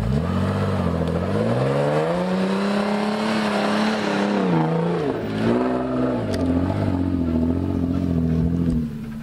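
An Opel Frontera B with a 3.2 V6 engine climbs a hill off-road. The engine drones steadily under load, its pitch rising and dipping as revs change, with some clatter and no talking.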